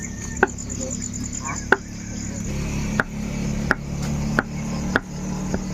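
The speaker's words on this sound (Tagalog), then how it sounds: "Iwa-iwain ko lang siya ng maliliit para maganda tingnan doon sa sinangag" A knife chops an ingredient into small pieces on a board for fried rice, with six or so sharp, evenly spaced knocks over a steady background hum.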